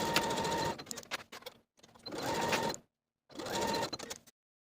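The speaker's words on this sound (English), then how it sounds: "Sew both side seams with a 5/8 inch seam allowance" A sewing machine stitches the side seams of a Simplicity 9678 holiday dress at a 5/8 inch seam allowance, running in three steady bursts of whirring stitches separated by short pauses.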